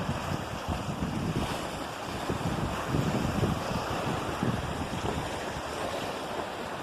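Steady wind rush and breaking waves surround a sailboat heading north from Cheboygan in an 18-knot breeze, a continuous loud roar with sloshing water and microphone buffeting throughout, no voices.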